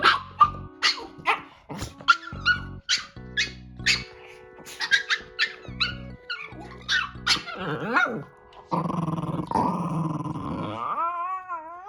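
A dog growls and lets out a rapid string of sharp warning barks, loud and close, ending in a drawn-out grumbling whine.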